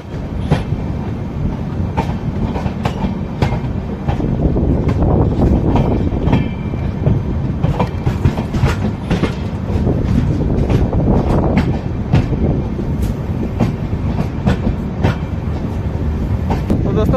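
Varanasi City–Lal Kuan Express summer special train running on rails near Aunrihar Junction, a steady loud rumble with rhythmic clickety-clack of wheels over rail joints and wind buffeting, heard from inside the moving coach.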